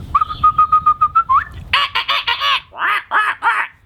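A steady whistled tone pulses in short beats, then a run of loud, raspy goose-like honks follows in rapid bursts, close and prominent.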